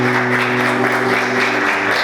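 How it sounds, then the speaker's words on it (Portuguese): Church congregation clapping with joy during a worship service, a dense, steady wash of applause filling the room with sustained musical tones underneath. "Vamos aplaudir o Senhor, queridos, com alegria."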